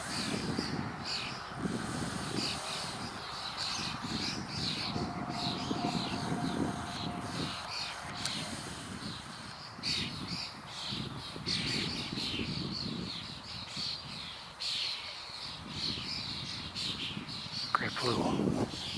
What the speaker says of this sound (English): Those are starlings you're hearing.